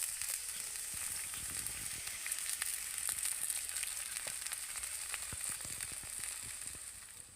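Semolina chitoi pitha cooking in a covered hot pan after water is sprinkled around the edges, giving a continuous faint hiss and crackle with scattered small pops, steady throughout and unaccompanied by voices.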